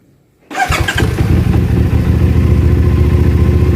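A CF Moto 450SR motorcycle fitted with an open pipe fires up after a brief quiet moment, catching with a loud burst of revs and then settling into a deep, throbbing, uneven idle close by.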